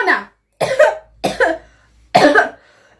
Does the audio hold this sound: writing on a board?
no